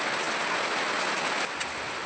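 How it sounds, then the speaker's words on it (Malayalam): Steady rain pours down in a continuous, dense hiss, close and fairly loud throughout with no voices. "മഴ ആയല്ലോ."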